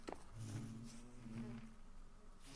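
Bees buzz in the Minecraft video game, a soft, close droning hum that swells and fades over a couple of seconds, with no one talking.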